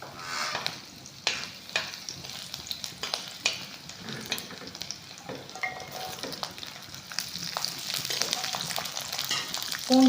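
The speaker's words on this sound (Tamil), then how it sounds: "இப்போ எண்ணெய் காயுது எண்ணெயில் வந்து இஞ்சி பூண்டை போட்டு நல்லா வதக்க போகிறேன்" Ginger and garlic sautéing in hot oil for a homemade pirandai pickle, a steady broadband sizzle with intermittent scraping stir clicks, close and fairly loud, rising toward the end, no talk.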